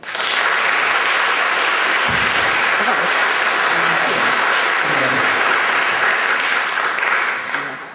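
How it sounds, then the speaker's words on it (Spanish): An audience at an Asturian film festival awards ceremony applauds past winners, steady dense clapping throughout with faint voices and a few low thumps beneath. "Un aplauso para ellos."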